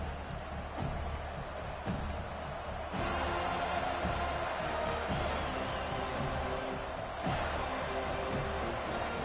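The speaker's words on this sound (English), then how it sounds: "This crowd bringing an ear-splitting welcome to their visitors." A dense, steady roar from a stadium crowd cheering in the college football video game NCAA 25 as the Seminoles open with a kickoff. It is loud and continuous throughout, with brief sharper surges.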